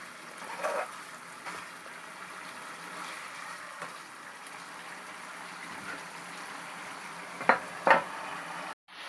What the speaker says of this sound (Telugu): ఐదు నిమిషాలు ఇలాగే వేగనివ్వాలి